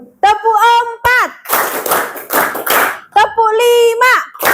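A group playing a counted clapping game in a classroom: a spoken count call, then four crisp, loud claps in quick succession, and another call afterward.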